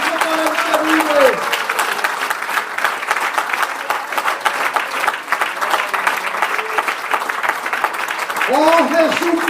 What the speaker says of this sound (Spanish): ese aplauso para el que vive